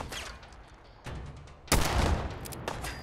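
Explosion in Fallout 4 combat, a sudden sharp boom that rolls into a sustained rumble, preceded by scattered gunfire and followed by a couple of further distant cracks.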